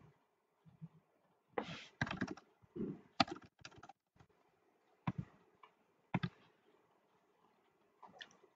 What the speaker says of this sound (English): we can just type inside of our shape